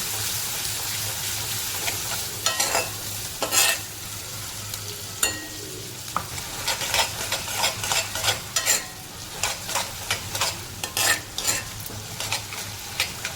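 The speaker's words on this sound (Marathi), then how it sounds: "याच्यामध्ये कांदा, मोठा एक कापलेला कांदा घेतला, परतून घ्यायचं आपण" A large sliced onion fries in oil with cumin and asafoetida, giving a continuous sizzle broken by frequent spatula stirring and scraping that turns brisk and rhythmic in the second half, with no voices.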